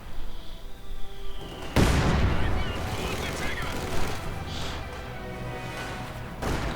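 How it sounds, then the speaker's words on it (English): Gunfire barrage in the wartime strategy game Company of Heroes, with a dense burst of overlapping shots and explosions that starts suddenly and keeps rumbling, and a second sharp crack near the end. "another swift barrage in the hopes of getting his opponent's heads down"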